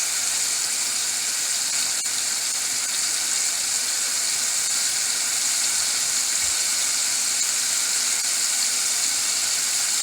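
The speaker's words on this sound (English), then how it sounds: "Cook them until they golden brown. Get popped in the face by some oil." A pound of shrimp frying in hot oil gives a steady, bright sizzling hiss that holds evenly throughout, close and continuous with faint crackles.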